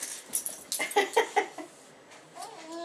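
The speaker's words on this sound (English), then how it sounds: "That's a puppy." A puppy whimpers and yips in a quick string of short, high cries, close and fairly loud, before the sound drops to a quieter whine.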